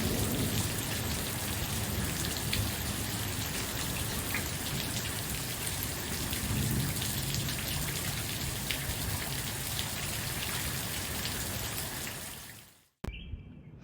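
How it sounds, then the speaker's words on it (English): Heavy steady rain pours outdoors in a spring thunderstorm with low rumbles of thunder underneath, a dense constant wash that fills the whole stretch before breaking off abruptly near the end. "we've got quite a storm brewing out here"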